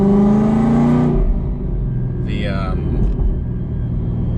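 A car fitted with a Whipple supercharger rumbles low and steady, with a brief rising whine partway through, after a short stretch of voice at the start.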